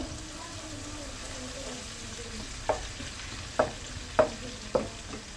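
Bay leaves, dried chillies and whole cumin sizzling in hot oil, a low steady fry with several sharp clinks of a spoon against the pan toward the end.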